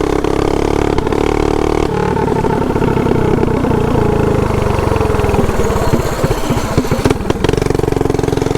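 A mini bike engine with a bypass governor running loud and close, a steady rapid putter that dips and stumbles slightly partway through before picking up again, no talking.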